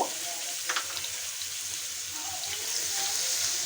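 Thickly chopped onions frying in a pan, a continuous close sizzle with faint stirring scrapes, swelling slightly toward the end.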